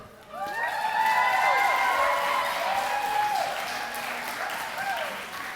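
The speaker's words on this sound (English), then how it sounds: "let's give a big round of applause for the father of the groom." Guests at a wedding reception break into loud, sustained applause for the father of the groom's speech, clapping that swells quickly and holds for several seconds before slowly easing off.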